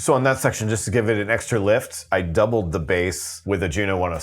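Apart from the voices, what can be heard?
No everyday noises stand out.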